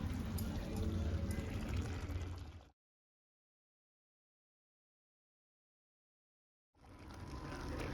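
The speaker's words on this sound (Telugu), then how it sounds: "రెండు కప్పులు వాటర్ పోసి" Water pours in a steady, splashing stream into a pot, two cups for a sweet potato curry, stops for several seconds of silence, then starts pouring again.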